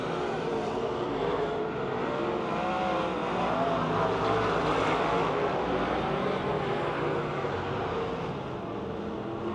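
Race cars roaring around the oval at Pennsylvania Motor Speedway near Pittsburgh, a dense, steady wall of engine noise from a full field, loud and continuous with no voices over it.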